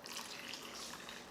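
Hot homemade vegetable broth pours through a funnel into a mason jar, a continuous soft liquid rush with no talking.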